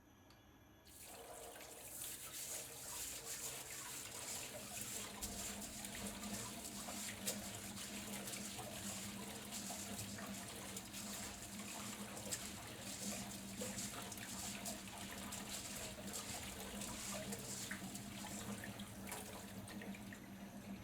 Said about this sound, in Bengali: এখানে মুসুর ডাল ধুয়ে নেব।